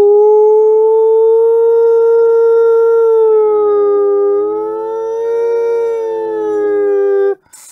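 A smooth, pure whistle-like tone holds steady, then dips slightly lower and wavers before cutting off abruptly; a voice imitates a sine wave.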